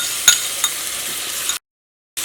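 Ginger garlic paste sizzling in a hot pan while it is stirred, a steady bright frying hiss with a few spoon scrapes before the sound cuts out briefly and then resumes.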